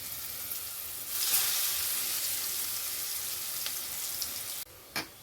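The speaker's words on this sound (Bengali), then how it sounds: "এবার একটা একটা করে ভেজে নেব অল্প অল্প করে দেব" Bengali dhoka lentil cakes frying in oil over a low gas flame, a steady close sizzle that swells briefly after a second, then cuts off sharply near the end with a short clatter.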